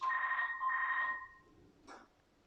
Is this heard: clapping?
no